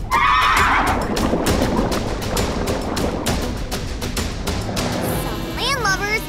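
A cartoon seahorse neighs and whinnies amid galloping hoofbeats, loud and busy against a music and effects bed, with a rising whinny trill near the end.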